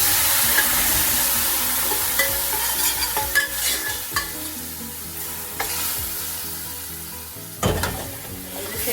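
Cooked beef spare ribs are stirred into frying onions with garam masala, giving a steady sizzle broken by repeated scraping, clattering stirs in the pan.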